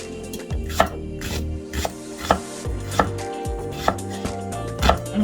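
A knife slices food on a cutting board for chicken curry, about six crisp, evenly spaced chops ringing out up close with no talk.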